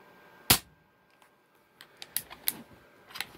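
A spring air rifle fitted with a hammer spring depinger fires one sharp, dry crack, followed by a few softer clicks and taps, with no spring ring after the shot.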